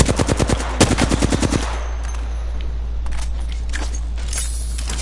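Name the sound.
machine gun fire in Apex Legends video game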